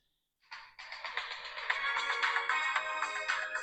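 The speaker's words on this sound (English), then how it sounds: "My phone going off with a suspected spam as usual." After a brief silence, a mobile phone ringtone starts and rings continuously in a bright repeating melodic pattern at moderate volume.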